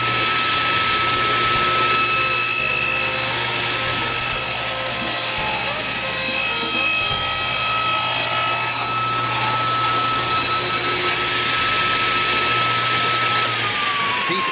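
A power saw rips through wood being cut for an outdoor bench in a workshop, giving a loud, steady, continuous whine close by that runs the whole time and eases off near the end.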